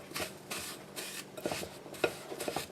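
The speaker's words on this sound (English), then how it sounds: "I'm going to put that all together and cream it." Butter and sugar being creamed together in a bowl, giving a steady rhythmic scraping and stirring with soft clinks of the utensil against the bowl, close and fairly quiet with no talk.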